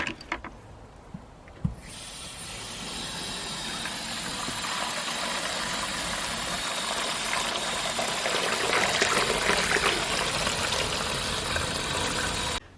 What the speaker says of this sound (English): then I'll fill the rest up with water